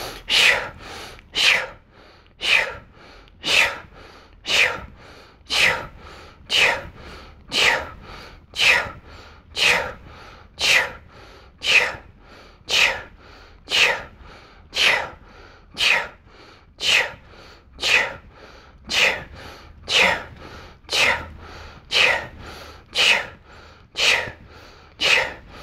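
Rhythmic breathing during a Kundalini exercise, about twenty forceful, breathy huffs repeating at a steady, brisk pace, close and clear with no talk.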